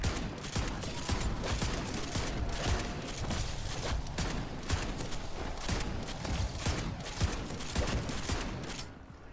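Rapid, continuous gunfire erupts in the Modern Warfare Zombies video game, with dense overlapping shots and bursts sustained at high volume from start to finish.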